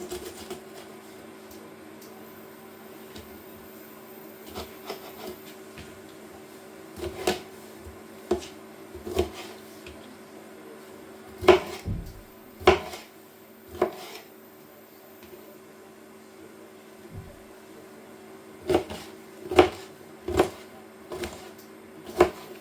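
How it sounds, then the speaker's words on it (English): A knife slices pepper and mushrooms on a chopping board in a kitchen, giving sparse, irregular knocks of the blade against the board, some in quick clusters, near and fairly quiet, with a faint steady hum behind. "we'll slice up some pepper and mushrooms"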